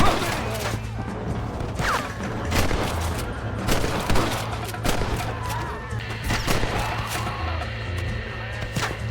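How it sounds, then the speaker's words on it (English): Gunfire in the Red Dead Redemption video game: rapid bursts of loud overlapping shots and cracks with echoing booms across the whole stretch, set against a low steady hum. "Stop shooting!"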